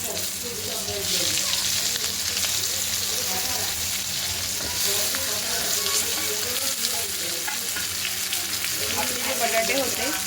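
Stuffed brinjals added to Malvani masala in a hot pan for bharli vangi, a loud continuous frying sizzle with stirring throughout and a voice faintly present.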